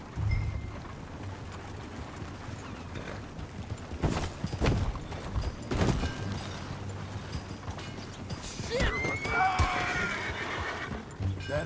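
A horse whinnies loudly near the end after scattered hoof clatter and mechanical rattles, set against a steady ambient background in the video game Red Dead Redemption 2.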